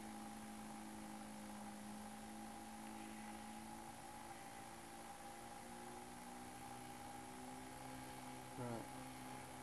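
Toyota Prius electric motor driven by a new class D controller at about 3 amps, giving a faint, steady whine of sustained tones that shift slightly as the speed comes up, with a brief blip near the end.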